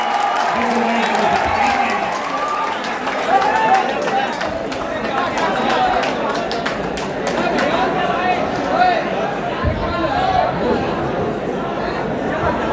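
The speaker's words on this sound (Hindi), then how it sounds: "एक बार फिर जोर तालियां बजाएं।" Applause and crowd chatter at a mushaira poetry gathering, a steady mix of clapping and murmuring voices with shouts, loud and sustained, with talk over it.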